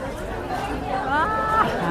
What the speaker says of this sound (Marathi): किती प्रचंड गर्दी.